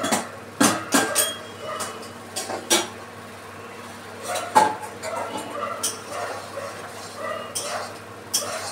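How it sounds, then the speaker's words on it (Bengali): A metal lid comes off a pot of boyal fish curry with cauliflower, making several sharp clanks and knocks spread out over a quiet kitchen background. "ঢাকনা খুলে নিচ্ছি বন্ধুরা"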